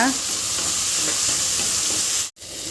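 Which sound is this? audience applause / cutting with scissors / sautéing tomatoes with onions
sautéing tomatoes with onions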